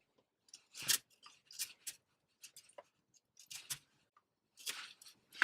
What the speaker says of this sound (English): Now we're going to cut away from the section that we're keeping.